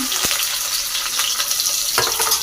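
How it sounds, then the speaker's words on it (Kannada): Onions and bay leaves fry in hot oil for chicken biryani, giving a steady, loud sizzle with a few sharp stir scrapes from a spoon in the pan. "ಈರುಳ್ಳಿ ಚೆನ್ನಾಗಿ ಫ್ರೈ ಆಗಲಿ."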